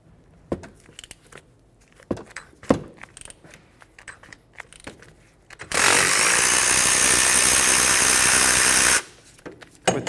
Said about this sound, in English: let's remove the 2 17mm bolts holding the caliper and bracket assembly onto the knuckle